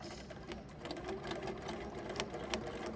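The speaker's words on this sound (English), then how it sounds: "So I'm stitching on the white as close to that yellow seam as I can get." A sewing machine stitches in the ditch along a seam on a baby quilt, its needle running in a fast, even mechanical whir with light rhythmic ticks, steady and fairly quiet, with no talking.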